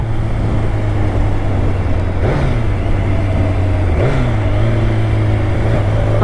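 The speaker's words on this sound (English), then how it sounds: "I just can't stop loving the sound of this bike" Kawasaki ZZR 1100 motorcycle with an inline-four engine idling steadily close by, blipped twice into sharp, quick revs that rise and fall back to a smooth hum, with no voices present.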